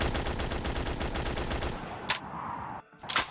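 Rapid automatic weapon fire in a Black Ops 3 mod, a dense stream of evenly spaced shots for about two seconds, followed by a brief pause and a couple of short bursts.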